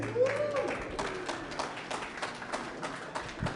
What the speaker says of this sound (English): thank you all for clapping for someone from a bank